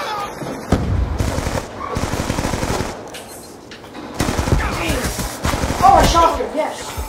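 Rapid automatic gunfire from Call of Duty Black Ops II multiplayer, bursts of loud close shots in stuttering rhythm with pauses between, while players talk excitedly over it.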